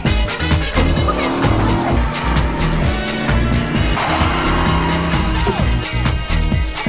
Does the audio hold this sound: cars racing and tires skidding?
yes